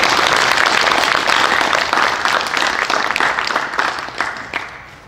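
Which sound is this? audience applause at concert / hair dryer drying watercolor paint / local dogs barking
audience applause at concert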